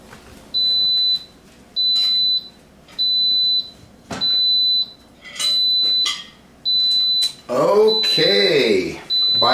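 An Insignia 6-quart pressure cooker sounds its finished alert, a loud run of seven evenly spaced high electronic beeps, each about half a second long, followed by brief clatter at the end.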